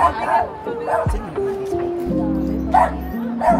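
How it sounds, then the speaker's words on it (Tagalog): A dog barks several times in short yips and a whimpering bark, close by, while people chatter in the background. "Ay, may aso ako. May aso."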